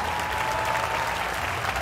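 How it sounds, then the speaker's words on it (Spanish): A church congregation at a worship service applauds loudly and steadily, a dense continuous wash of clapping with no break. "Aplauda más fuerte al Rey"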